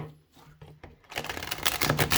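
A tarot card deck is riffled and shuffled by hand, starting with a few soft taps and then turning into a dense, loud run of flicking card clatter.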